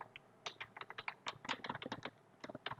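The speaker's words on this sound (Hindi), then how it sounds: "एंटर प्रेस करके" Quick, light clicks of a computer keyboard while coding, a rapid irregular burst of keystrokes with a short pause near the end, close and fairly quiet.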